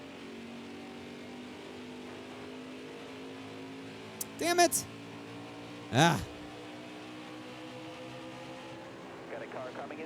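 Race car engines from the NASCAR Heat 5 game at Iowa, a steady low drone under the player's two brief exclamations, with a couple of short louder bursts as cars close in.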